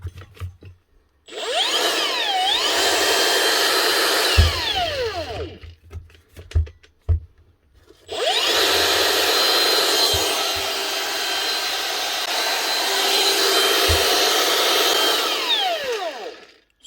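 Makita DUT130 cordless mixer whirring loudly in two long bursts, each spinning up and winding down with a smooth, steady motor whine, with a short pause and a few knocks between runs.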